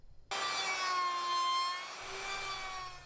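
A power saw cuts through a 3/8 inch plywood panel, starting abruptly into a loud, sustained whine that holds steady and eases slightly toward the end.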